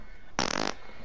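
A person beatboxing imitates a fart with their voice: one short, loud, buzzing raspberry burst lasting about a third of a second, standing alone against quiet background noise.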